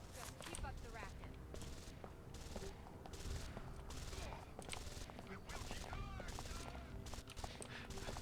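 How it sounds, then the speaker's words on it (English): Distant gunfire in the video game Deus Ex: Invisible War, a dense crackle of repeated shots and bursts that runs steadily through a busy game soundscape, with a voice heard faintly at times. "I hear shooting"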